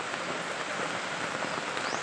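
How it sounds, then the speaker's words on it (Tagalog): Heavy rain pours down around a house in the Philippines during a prolonged downpour, a dense, even hiss of countless drops hitting surfaces nearby, loud and unbroken, with no talking. "ulan na naman. Napakalakas ng ulan mga kapibi, kagabi pa to."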